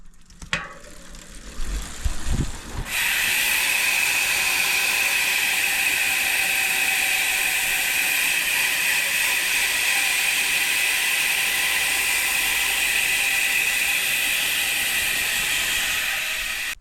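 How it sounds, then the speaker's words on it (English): A bicycle's rear hub gives a rapid, continuous buzzing of ratchet clicks while pedaling, steady and loud, preceded by a few brief mechanical knocks. "The hubs became a lot louder, like if I pedal."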